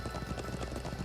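Rapid, regular hoofbeats of a galloping horse in the video game Trails of Cold Steel II, a steady clip-clop rhythm over a soft background bed.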